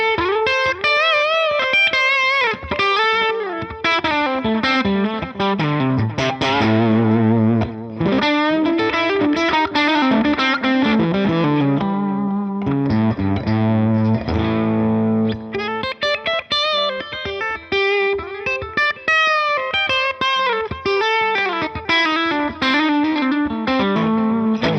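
An electric guitar runs through a Line 6 HX Stomp template with effects, playing loud, continuous distorted chords and melodic lines with chorus-like shimmer and a little ambience, steady for about twenty-five seconds with no talking.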